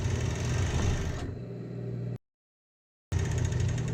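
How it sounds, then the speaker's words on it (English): Cover stitch sewing machine sewing binding onto fabric, a fast steady motor hum that slows near the middle, stops abruptly into silence, then restarts. "So I fed that binding in a little bit into my cover stitch machine"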